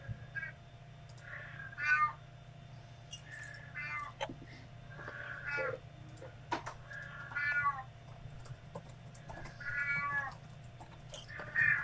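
A house cat meows repeatedly, several distinct calls spaced a second or two apart, fairly close over a low steady background hum.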